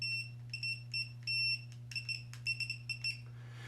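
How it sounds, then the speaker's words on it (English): Morse code beeps ring out as a clear high tone in a pattern of short and long pulses, sounding alone over a low steady hum. "That's a Morse code."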